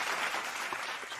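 Studio audience applause for a live talk show, a brief burst of dense clapping that stays fairly even.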